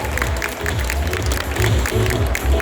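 Audience applause at the award ceremony for the Doraemon Singing & Dancing Contest 2020, a steady crowd clapping under a Thai announcer's continuing voice through the whole stretch.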